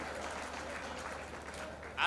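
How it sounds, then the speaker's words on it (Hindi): Audience applause at a Hindi poetry gathering, a soft, steady wash of many hands clapping at a distance, with a voice speaking near the end. "एक बार ताली बजा के मुझे तालियों से"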